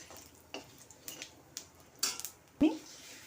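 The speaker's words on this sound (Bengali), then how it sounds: "এখন মশলাটা ভালোভাবে কষিয়ে নেব।" Spices with panch phoron, for a chana dal and soya chunk dish, being stirred and fried in a pan: scattered scraping and clinking strokes of a spoon against the metal over a faint sizzle, close and fairly quiet.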